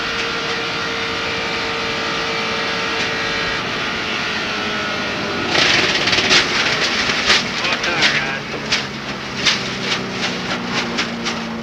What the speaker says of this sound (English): You heard him back off the throttle, and just after he backed off the throttle, you heard the tire start hitting the fender